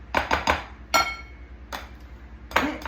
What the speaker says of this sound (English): you want to use this here because it cuts. It cuts the butter and the sugar